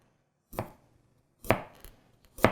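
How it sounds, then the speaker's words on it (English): Three crisp push cuts through vegetables on a cutting board with a Mikarto Damascus chef's knife. The strikes are close and sharp, evenly spaced with quiet gaps between. "I do a push cut with this?"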